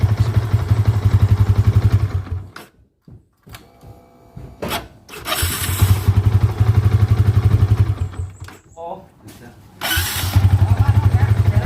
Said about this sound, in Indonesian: Saya pijit starternya.